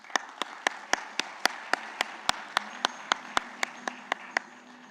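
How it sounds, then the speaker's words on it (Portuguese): Sparse, quiet applause from a small audience at a panel event, individual claps landing in a steady rhythm for several seconds. "Por favor, uma salva de palmas."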